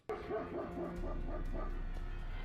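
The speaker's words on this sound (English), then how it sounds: "it's making the dogs bark like crazy too" Dogs barking in a quick run of short yaps and whimpering yips that start abruptly, close and moderately loud over a steady low hum, with no talking.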